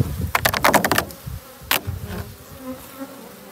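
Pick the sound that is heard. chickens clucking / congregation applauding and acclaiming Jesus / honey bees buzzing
honey bees buzzing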